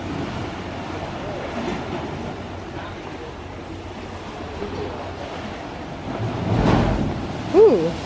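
Ocean waves wash against a wet rocky shore at Acadia National Park in Maine, a steady surf rumble with wind noise that swells into a louder splash near the end.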